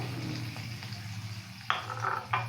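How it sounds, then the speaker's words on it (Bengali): Whole garam masala spices sizzle in hot oil as the tempering for a milk-cauliflower dish, a soft steady frying hiss broken by two sharper bursts near the end. "গোটা গরম মশলা ফোড়নে যাচ্ছে"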